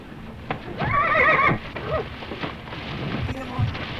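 A horse in an old 1935 film neighs in a loud, wavering whinny, and hooves clip-clop around it while faint voices murmur in the background.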